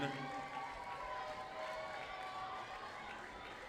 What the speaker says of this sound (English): Make some noise and give a round of applause.